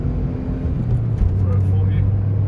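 A 1.2-litre three-cylinder VW Polo engine rising in pitch as it accelerates hard, a steady close-up drone with a low tonal hum climbing partway through, heard from inside the car.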